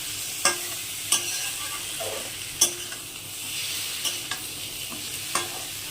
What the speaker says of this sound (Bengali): এইরকমভাবে মিশিয়ে নিতে হবে